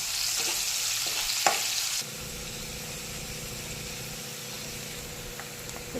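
Mustard seeds, onion and chillies frying in leftover fish oil, a steady close sizzle with some stirring, louder at first then settling into a softer continuous crackle.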